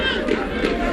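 A large home crowd at a youth rugby match, Jamaica versus Trinidad and Tobago, roars and cheers continuously, a dense wash of voices close by with no breaks.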